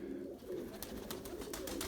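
Erzurum white pigeons in a coop coo in low, rolling, repeated calls, close and continuous, with faint clicks and rustling in the background.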